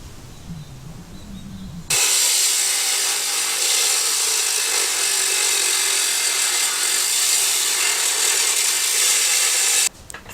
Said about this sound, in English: we're going to have a go at cutting that old bit of aluminium to make into a bit of a side for this side first